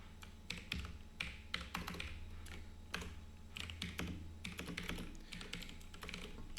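Rapid clacking of a computer keyboard while code is being written, with bursts of quick keystrokes and brief pauses, near and steady, with no talking.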